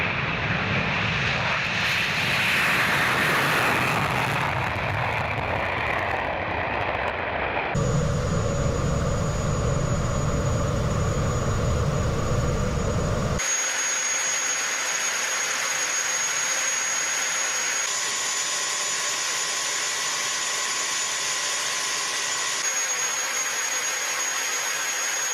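Jet engines of a Russian Tu-160 supersonic bomber give a loud, steady broadband roar that shifts abruptly to a thinner, whining tone with high pitched components partway through, with no voices.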